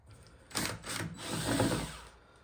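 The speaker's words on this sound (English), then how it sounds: "I'm going to go ahead and unscrew the screws." A power tool removes screws from a Hyundai i10 car body: two short close whirring bursts, then a longer grinding whir that fades out.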